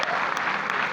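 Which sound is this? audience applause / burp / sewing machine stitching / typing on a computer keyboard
audience applause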